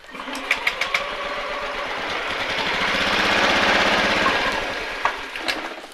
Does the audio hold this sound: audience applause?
no